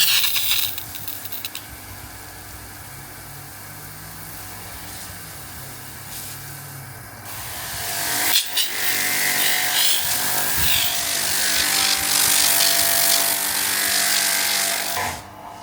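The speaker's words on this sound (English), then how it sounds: "Hold down on the trigger and you're ready to spray." A Kranzle pressure washer motor drones, then a loud hissing spray of water bursts in and continues strongly, close by, with no voices.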